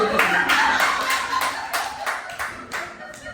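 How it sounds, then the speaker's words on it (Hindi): Audience clapping at a book inauguration event for a poetry collection, a few rhythmic rounds of hand claps from a small crowd, fairly close and steady, tapering slightly toward the end with faint voices in the background. "ताली बजाइए"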